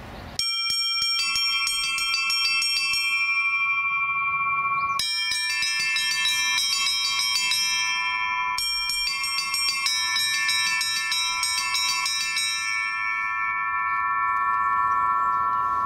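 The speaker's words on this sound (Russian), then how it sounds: "В основном работает первый, второй колокол. Для усиления громкости включаем третий колокол." Church bells from Moscow's Liteks foundry ring in a rapid, continuous rhythmic pattern, bright and close, several tones overlapping and pausing briefly before resuming; mainly the first and second bells, with a third added for volume.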